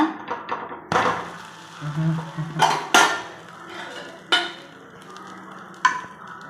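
Metal spatula scrapes and taps against a pan while a ladies finger (okra) dosa is flipped, a few sharp clinks and knocks spread over several seconds, close and fairly loud.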